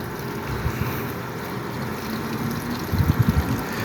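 Water gushes at full flow from a household water pump outlet while the faulty motor fails to start, a steady rushing wash with a few low thumps near the end and no voices.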